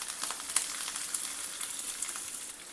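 Onions frying in a pan with curry leaves, garlic and green chillies, a continuous close crackling sizzle with small pops throughout.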